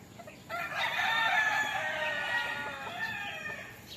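A rooster crows once, a single long, loud and clear cock-a-doodle-doo close by that lasts about three seconds over faint farmyard background.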